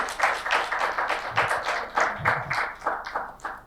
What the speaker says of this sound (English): so let's give him a round of applause, please.